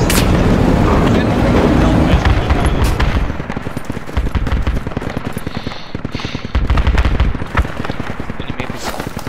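Sustained automatic gunfire crackles loudly in the Project Reality war game, dense rapid bursts with heavier low booms, the fire briefly easing midway before surging again near the end.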